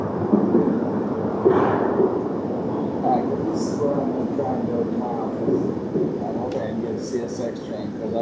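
A CSX freight train rumbles past a crossing in Dalton steadily with a broad, continuous roar, while someone talks over it; a few higher squeals cut in near the end.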